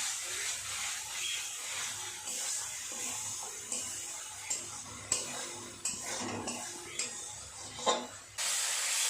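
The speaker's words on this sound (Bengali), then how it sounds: "দু 3 মিনিট সময় নিয়ে খুব ভালো করে মশলাটাকে কষিয়ে নেব।" Spice masala for prawn malai curry stir-fried in a pan, a steady sizzle broken by repeated spatula scrapes and clinks against the pan at irregular intervals, close and moderately quiet.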